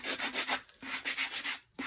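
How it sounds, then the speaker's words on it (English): Sanding block rubbed lightly over the raised lettering on a chalk-painted Dollar Tree mason jar, a close, scratchy stroke sound repeating in steady back-and-forth bursts with a brief pause before the final pass. "Anywhere where the words are raised, I'm going to hit it up with my sanding block."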